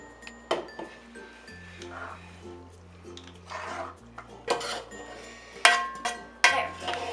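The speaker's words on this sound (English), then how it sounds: "I'm going to grab this big pan and put the pasta in it." A big metal pan handled in a home kitchen as pasta is added, with several sharp clanks and scrapes of metal and utensils, irregular and close, over a low steady hum.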